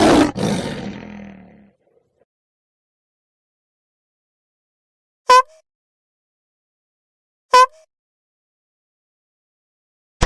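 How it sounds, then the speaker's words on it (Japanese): Cartoon lion giving a loud, close roar that fades over about two seconds, followed by long silence broken by two short clicky sound effects. "ライオン。"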